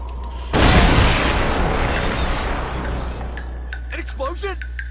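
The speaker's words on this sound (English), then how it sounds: "An explosion?" A loud burst of explosion noise from the video game Metal Gear Solid: Peace Walker erupts suddenly, then a long rumbling tail decays slowly, followed by faint electronic game cues at the end.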